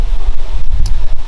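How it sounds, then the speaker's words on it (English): Loud, low buffeting rumbles of wind hitting the microphone, gusting in uneven bursts over a short stretch. "very windy out right now, so please excuse the wind noise"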